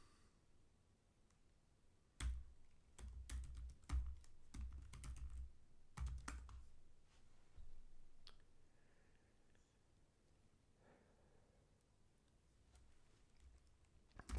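Bursts of keyboard typing on a retro computer terminal loading an HP 2000 tape library, clustered clicks in quick runs between about two and seven seconds, then quieter sparse taps, close and alone with no talking.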